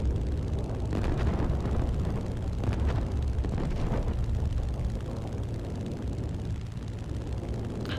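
An aircraft blows up during a match of the flying combat game Fighter Royale - Last Ace Flying, a sustained loud rumbling blast with crackling bursts spread across several seconds, no talk over it.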